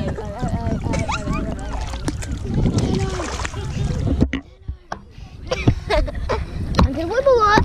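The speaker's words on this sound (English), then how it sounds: "You're paddling now." Paddling a small boat on a creek, with splashing water and hull knocks mixed under frequent chatter and child-like voices, fairly close and intermittent.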